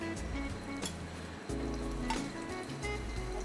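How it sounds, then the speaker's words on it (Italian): Octopus browning in a nonstick pan lightly greased with olive oil, giving a steady close sizzle and crackle throughout, with a few faint clinks of utensils against the pan. "cominciamo invece a rosolare il polpo"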